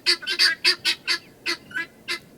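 Guinea fowl on a homestead call out in a quick series of about ten harsh, rhythmic cackling chirps, close and loud with short gaps between them.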